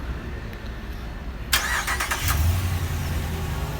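A 2017 Ram 1500 Night crew cab 4x4 with a Hemi V8 cranks over and starts after a quiet stretch, a brief burst of starter noise giving way to a low, steady idle rumble close by.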